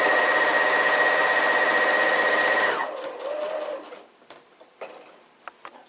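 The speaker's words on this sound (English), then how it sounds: "I stitch pretty much in the ditch to begin with" A sewing machine hums steadily as it stitches quilt layers in the ditch, loud and close, then stops abruptly partway through. A few faint handling clicks follow.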